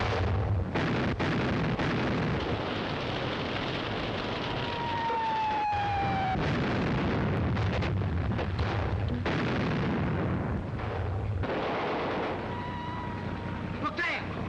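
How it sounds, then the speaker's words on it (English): Naval shells fired from battleships explode in a dense, continuous barrage of booms and rumbles, with whistling shells passing overhead and a voice speaking amid the bombardment. "Battleships are opening up. We can't lie out here all night with the shells going places."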